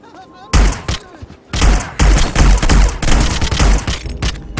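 Rapid bursts of gunfire from the video game Hitman: Blood Money, loud and close, with repeated heavy volleys after a quiet start and faint voice-like sounds underneath.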